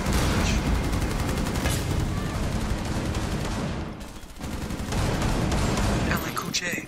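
Rapid pistol gunfire in a video game crackles almost nonstop and loud, with a short lull near the middle before the shots resume, mixed with game noise and some voice.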